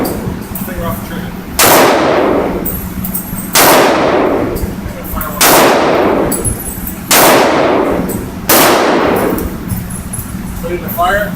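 AR-15 pistol firing single rounds, four sharp loud reports spaced a couple of seconds apart, each with a ringing decay, over a steady outdoor hum.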